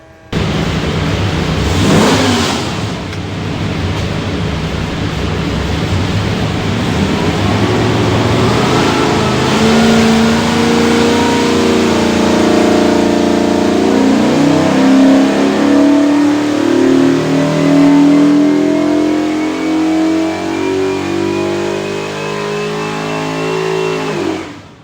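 A 363ci small block Ford engine with a Holley Terminator X fuel system runs on a dyno for an '88 Fox Body Mustang, climbing in a long, loud, steady pull as the pitch rises, then dropping off at the end.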